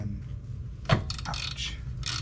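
A ratchet wrench tightens a footboard arm on a Harley-Davidson Road Glide motorcycle, giving several quick clicking bursts and a metallic clank, close by and with no talking.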